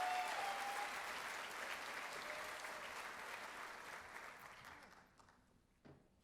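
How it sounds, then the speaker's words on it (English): A conference audience at an opening keynote applauds steadily, a full room of clapping that slowly thins and fades toward the end, with a faint bit of voice near the close. "Please give Julie and Kirsten a round of applause and welcome to the stage."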